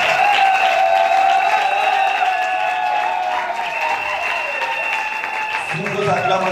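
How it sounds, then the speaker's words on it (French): An audience at a prophetic conference gathering applauds and cheers in a sustained wash of clapping, with tonal music and voices carrying over the crowd throughout. "Sous vos acclamations, s'il vous plaît"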